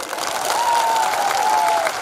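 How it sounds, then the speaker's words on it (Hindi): A large crowd at a Tipra Motha political mass rally in Agartala claps in a dense, steady burst of applause lasting the whole moment, with a faint voice over it. "ताली दीजिए इनको।"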